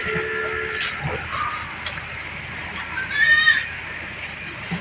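A crossbred goat, a local desi doe crossed with a Beetal, bleats once nearby on a goat farm, set against a low outdoor rumble with faint voices.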